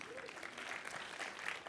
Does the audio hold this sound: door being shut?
no